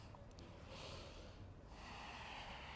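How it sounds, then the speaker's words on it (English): Slow, deep breathing held in a downward facing dog yoga pose, a long airy inhale followed by a soft exhale through the nose, faint and close, with no talk. "5 breaths here to rest. Deep inhale and exhale."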